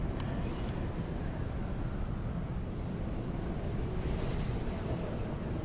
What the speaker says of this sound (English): Let's stay down here while the sandstorm goes through.